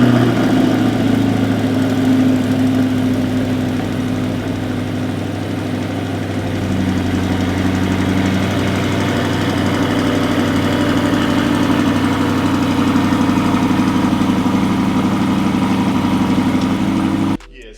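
A Chevrolet C8 Corvette engine rumbles at idle just after startup, a deep, steady, close-up burble with slight fluctuations that runs throughout, while people talk faintly underneath.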